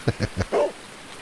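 A dog in a farming video game gives three short, quick barks, then a longer, higher yip or whine. The sounds are clear against a quiet background with faint rain-like hiss.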